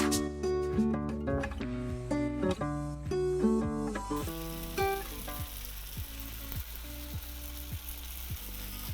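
Stuffed rabbit fries and browns in hot oil, giving a steady, close sizzle that runs the whole time beneath a plucked, tonal melody playing alongside.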